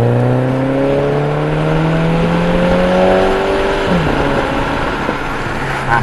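VW Scirocco 2.0 TFSI with a DSG gearbox, heard close and loud as the engine revs up in a rising whine, then a gearshift drops the pitch before it climbs again. No one speaks.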